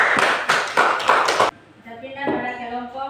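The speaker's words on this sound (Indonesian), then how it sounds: "Kita berikan aplaus kepada kelompok 2" Classroom applause for a student group: a short burst of hand clapping in uneven pulses for about a second and a half, followed by a voice talking in the room.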